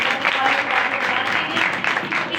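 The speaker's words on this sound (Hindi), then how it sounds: "जितनी बरकत मिली है फिर जोरदार ताली से" A church congregation at a Sunday meeting claps loudly, a dense, even wash of many hands sustained throughout with no pause.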